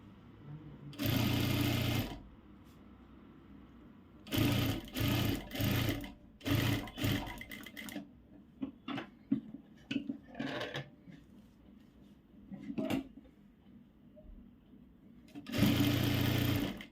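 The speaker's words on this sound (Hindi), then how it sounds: "यहाँ पे हम नेक पार्ट में सिलाई कर लेंगे।" A sewing machine stitches the neck of a girl's frock in several whirring bursts, with short pauses and light fabric handling between them.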